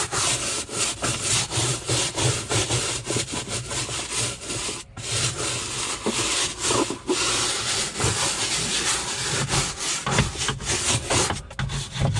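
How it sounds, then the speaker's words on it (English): A brush scrubs Super Clean cleaner into the Armorlite floor lining of a Jeep Wrangler JKU, a loud, close, rhythmic back-and-forth scrubbing with brief pauses between strokes. "Just kind of work that in. Give it a good scrub."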